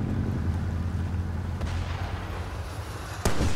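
Mortar explosion in Far Cry 2, a distant thud early on and a sudden loud, close blast near the end over a steady low rumble of ambience.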